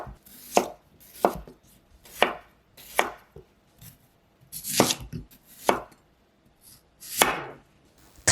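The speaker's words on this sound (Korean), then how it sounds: "깨끗이 씻은 감자는 반으로 자른 다음 웨지 모양으로 썰어 줄게요." A knife chops steadily through potatoes into wedges on a cutting board, about ten sharp thuds in an uneven rhythm, close up with no talking.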